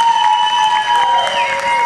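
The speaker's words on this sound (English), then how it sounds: "let's give her a big round of applause" A crowd at an outdoor Alzheimer's charity walk in Muskegon gives a round of applause, a loud burst of clapping mixed with a sustained tonal ringing and some cheering.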